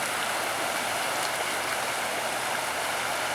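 Monsoon flood water rushes through a yard in a steady, dense wash of flowing water, loud and continuous like a stream, with no voices.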